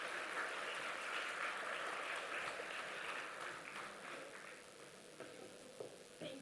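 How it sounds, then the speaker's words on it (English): An audience welcoming a guest on stage breaks into a big round of applause, a broad sustained clapping that stays strong, then gradually thins and fades toward the end. "A huge round of applause and a little bit of music."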